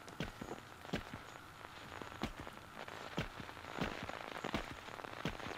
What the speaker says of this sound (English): The rain is clipping through the garage door